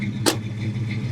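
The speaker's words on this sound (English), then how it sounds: "Show you the door closing" A single quick, solid thunk of a 1967 Mustang Fastback door shutting, close and sharp, over a low steady background hum.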